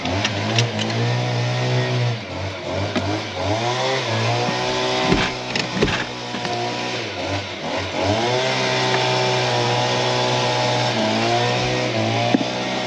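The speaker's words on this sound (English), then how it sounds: "He's still being noisy with that bloody leaf blower." A leaf blower runs continuously nearby, a loud droning motor whose pitch rises and falls as it is throttled up and down, with occasional clunks, and no voices over it.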